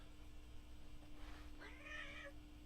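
A house cat gives a single drawn-out meow near a home kitchen, clear but fairly soft against a quiet background hum.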